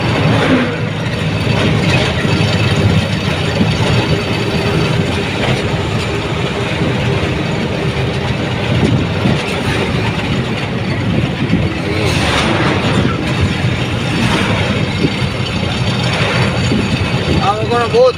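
A train runs alongside a road in Maharashtra, a continuous rolling rumble with clattering wheels heard from a moving vehicle, while people talk over it.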